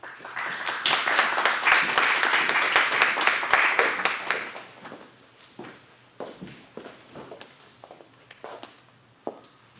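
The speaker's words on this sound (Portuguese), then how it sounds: "Queria então uma salva de palmas aqui para o professor Filipe Galego." Audience at a school event in Vila Nova da Barquinha applauding a teacher, a full burst of many clapping hands that fades after about four seconds into scattered claps and light shuffling.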